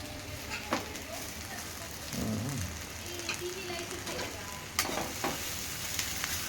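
Egg fried rice sizzles and fries steadily in a pan while being stirred, with occasional scraping and clinking of the spoon against the pan and faint voices in the background.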